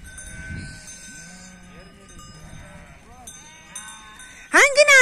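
Sheep in a village flock bleat intermittently amid tinkling bells on the animals, with a louder, closer bleat at the end; faint voices can be heard in the background.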